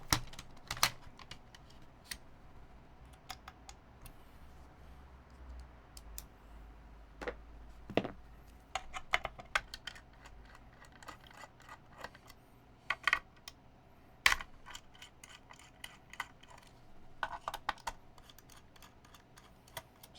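Clicky typing on a mechanical keyboard fitted with R&D KBD Butter Brown switches, irregular bursts of fairly soft, close keystrokes with short pauses and a few sharper, louder key hits.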